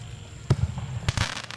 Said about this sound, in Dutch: Kijk, deze geeft dan alleen een crackling mine.